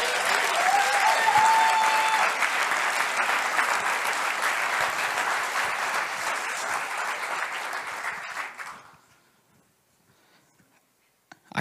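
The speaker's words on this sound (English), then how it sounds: "Can we just clap for Jesus real quick?" A church congregation claps together, a broad steady wash of hands with a brief whoop, holding for about nine seconds before fading abruptly into near silence.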